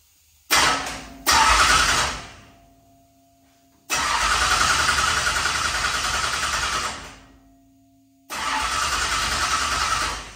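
A carbureted engine with its ignition off and a fuel pump that is not pumping is cranked by the starter in separate bursts: two short spins, then two longer sustained cranking runs of a few seconds each, loud and close, with no talk.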